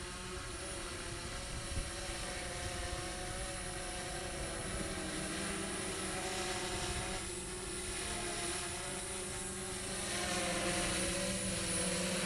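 A DJI S900 multirotor drone flying and coming in to land at the BB&T Center, a steady close buzzing whine of many propellers with a faint swell toward the end, heard alone without talk.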